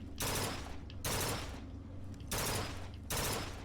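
Upgraded gun firing in Bioshock Infinite, four loud, close bursts of rapid fire, each lasting under a second and separated by brief pauses.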